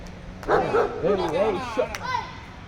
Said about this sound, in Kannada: ಆ ನಾಯಿ ಮಾತ್ರ ಸುಮ್ಮನೆ ಇರ್ತಾ ಇಲ್ಲ ಬಾಯಿ ಮುಚ್ಕೊಂಡು